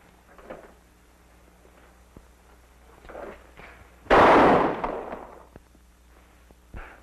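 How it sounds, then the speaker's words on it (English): A single loud gunshot from a revolver in an old Western shooting contest, a sharp burst at a letter-O target, with faint low voices before and a soft tap afterward. "We'll put a bullet in the letter O."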